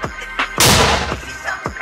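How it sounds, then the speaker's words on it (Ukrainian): A single loud artillery gun shot rings out close by, a sharp broadband blast that decays over about a second amid battlefield surroundings, with brief talk before and after. "Постріл! Постріл!"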